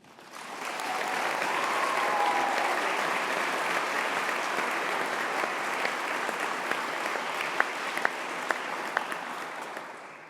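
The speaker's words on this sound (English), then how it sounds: "let's stop and give a round of applause for our successes" Sustained applause from a large audience at a university graduation ceremony fills the hall steadily for about ten seconds, dense clapping from a moderate distance with no voices rising above it.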